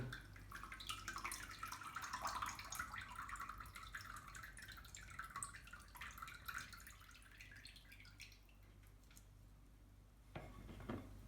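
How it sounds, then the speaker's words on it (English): Coconut water drips and trickles from an upturned coconut into a bowl, faint and close, with small clinks of a container. "I will now turn the coconut upside down and collect the coconut water into a bowl."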